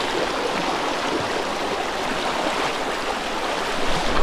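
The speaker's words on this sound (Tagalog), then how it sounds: "Lakas ng agos" Strong, fast river current in the Mindanao area rushing continuously, a loud, close, broadband roar of churning water with no pauses and no talk.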